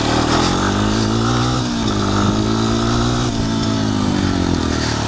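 A Honda 250EX ATV with a five-speed semi-automatic gearbox, revived after ten years left outside, idles and revs steadily up close, its loud continuous engine drone dipping briefly near the middle.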